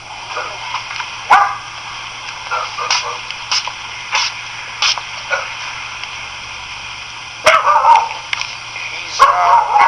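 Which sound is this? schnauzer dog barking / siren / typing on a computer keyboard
schnauzer dog barking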